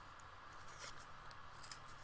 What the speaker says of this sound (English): and snip and snip, going through the middle,